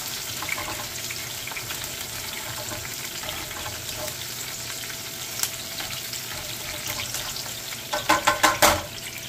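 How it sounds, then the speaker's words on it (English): Salmon sears in a hot frying pan with a steady, dense sizzle throughout, and a burst of louder crackling spatter near the end. "That's when you know it's ready to put the salmon there and let it sear."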